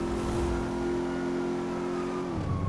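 A car engine in GTA Online roars at a steady high pitch during a high-speed chase, loud and continuous with no talk over it, then shifts near the end.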